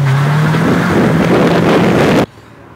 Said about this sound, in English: She makes the good VTEC sound